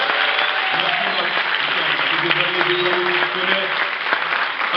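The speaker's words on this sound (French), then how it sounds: "Merci Matt Murdock, un tonnerre d'applaudissements pour lui." A comedy show audience in Stains claps in a dense, sustained burst of applause that holds steady and loud throughout, with a host's voice speaking faintly underneath.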